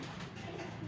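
A racing pigeon coos at a derby loft, a short soft low call, close and alone without talk.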